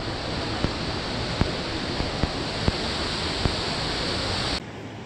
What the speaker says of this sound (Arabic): ده الشلال الاولاني